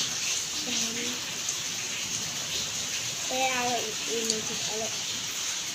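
Rain hisses steadily in the background while voices speak briefly over it.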